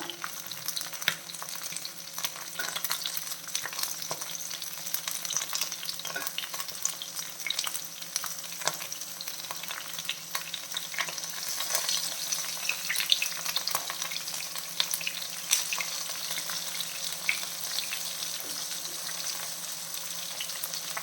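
Marinated brinjal sizzling and frying in a hot pan, a steady dense crackle and hiss held close throughout with occasional stirring clatter and no talk.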